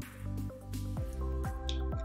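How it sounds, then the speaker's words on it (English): pH test drops fall one after another into a glass of oxygenated water, each a close, distinct plink and drip in a steady sequence, with no talking. "we are going to put some pH drops in this water"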